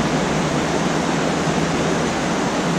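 A river flowing through Cuenca rushes in a steady, dense broadband wash, close and constant with no pauses or voices.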